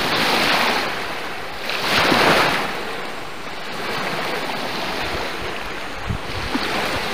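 Waves and lake water wash steadily along the Lake Huron shore, a close, continuous broadband surge with gentle swells and light wind noise, no voices.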